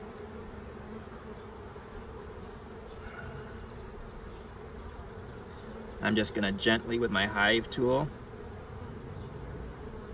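Honey bees hum in a low, steady drone around an open beehive while a beekeeper adjusts cross comb, and someone talks close by for a couple of seconds.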